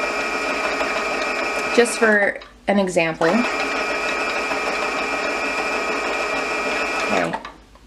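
A sewing machine winding a bobbin whirs steadily at high speed, pausing briefly twice while a person speaks, then running on before slowing to a stop.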